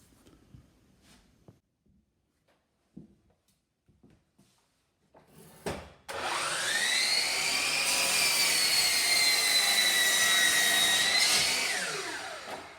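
A power saw cutting a rough-sawn wood board to length in a workshop: after a few quiet handling knocks, the motor spins up to a loud, sustained whining cut lasting several seconds, then winds down.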